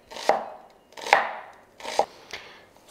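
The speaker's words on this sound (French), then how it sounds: "on les coupe en quart et puis après en fines tranches" Courgettes being chopped into thin slices on a board: four distinct knife strokes at a steady, unhurried pace, close and clear, with no talking.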